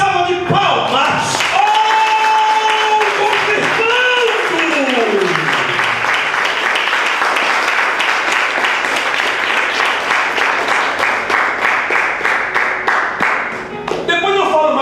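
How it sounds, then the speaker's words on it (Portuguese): An audience at a church service applauds, steady rhythmic clapping in unison that swells and continues for many seconds, with a preacher's voice drawn out over the start before the clapping takes over. "eu te convido você agora a dar uma linda salva de palmas"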